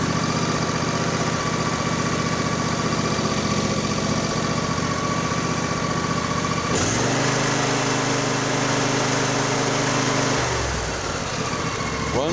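A Craftsman YTS4000 lawn tractor's engine runs steadily nearby, then shifts partway through to a deeper, rougher tone before settling again, with no talking.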